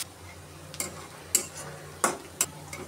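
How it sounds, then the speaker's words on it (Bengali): Onion and green chili being lightly fried in oil in a wok: a low background sizzle broken by several sharp scraping taps of a spatula against the pan, irregular and close. "এখন আমি পেঁয়াজ আর কাঁচামরিচটা একটু হালকা ভাজা ভাজা করে নেব"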